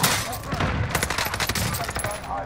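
Rapid automatic gunfire in Warzone rattles in quick close bursts aimed at the player, loud and continuous through the short moment.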